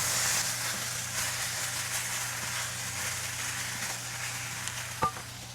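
Ginger and pak choy stir-fry in a hot pan, a soft continuous sizzle and hiss with one brief clatter near the end.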